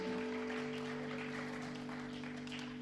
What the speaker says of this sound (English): give the Lord a good clap offering of praise.